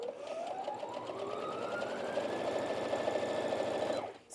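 A Brother Inventio NV1850Q sewing machine stitches in one steady run, its motor whir rising slightly in pitch as it speeds up, then stops sharply just after four seconds, close up with no talking.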